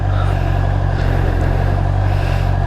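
A Honda CBR650R fitted with a quickshifter is on a test ride. Its engine gives a steady, loud drone under a constant rush of wind and road noise, with no clear gear changes.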